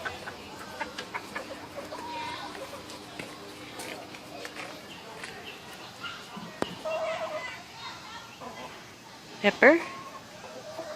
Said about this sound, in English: This is one of my new leghorns.